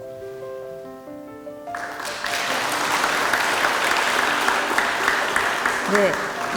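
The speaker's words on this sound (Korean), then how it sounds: "20년간 사랑과 헌신으로 봉사해 주신 귀한 분들께 다시 한번 감사의 박수를 부탁드립니다" Audience applause at a university anniversary thanksgiving service, a broad sustained wash of clapping that swells in after a few seconds of soft organ-like tones and holds steadily to the end.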